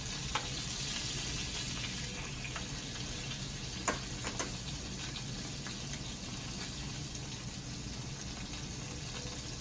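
Scallops, put in at about room temperature, sear and brown in a hot pan with a steady, loud, dense sizzle throughout, broken by a couple of brief clicks.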